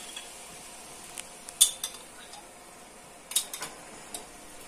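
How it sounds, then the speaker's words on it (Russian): A utensil clicks and scrapes against a pan while pasta sauce with chicken breast and mushrooms is stirred, in sparse, irregular light taps with quiet gaps between them. "Так, сейчас мы это перемешаем."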